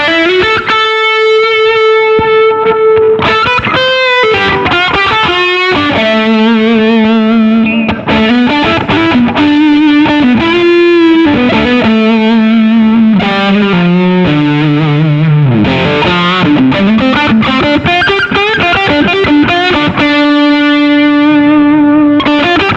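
Electric guitar played through an overdrive/distortion pedal, loud and saturated, with sustained notes and fast runs, a thick gritty tone with rich overtones and no talking.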